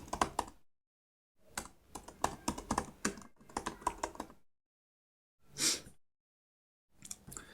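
Computer keyboard typing in quick bursts of close keystrokes while an Android app description is entered, with pauses of silence between runs and a brief breathy sound near the end.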